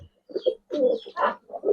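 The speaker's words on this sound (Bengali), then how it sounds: "এটা গেম খেলা একটা কবুতর" A Giribaz high flyer pigeon cooing up close, a few short throaty coos in uneven bursts with brief pauses between them.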